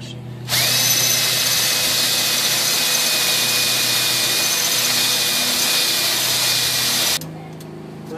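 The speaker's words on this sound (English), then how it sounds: "copper is kind of a weird metal to drill through" A power drill whines steadily for several seconds with a high tonal pitch while drilling through copper on a 2001 Dodge Ram 1500 alternator, starting and stopping abruptly, close and loud.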